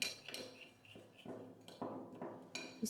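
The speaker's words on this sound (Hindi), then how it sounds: "इसको मिक्स कर लेना" A spoon scrapes and clinks against a bowl while a milk powder face mask is mixed, in soft, irregular knocks and stirring strokes, close by and quiet.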